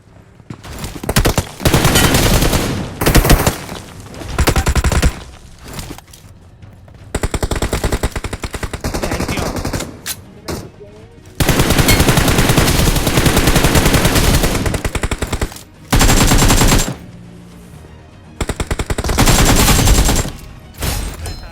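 Gunfire from the battle royale game BGMI comes in loud, dense automatic bursts separated by short gaps. It continues through the whole stretch.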